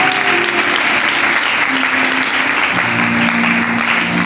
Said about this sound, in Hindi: आज जोरदार तालियां अपने यीशु के लिए बजाते हैं।